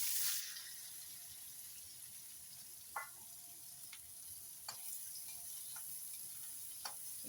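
Onions and green chili hit hot oil already seasoned with cumin for a paneer curry, giving a soft, steady sizzle with a few sharp pops and crackles scattered through.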